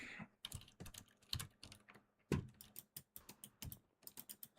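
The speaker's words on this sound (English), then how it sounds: "bro uses keyboard shortcuts." Rapid typing of shortcut combinations on a computer keyboard, with brisk, uneven clusters of crisp key clacks and a few heavier thumps, close and alone with no talking.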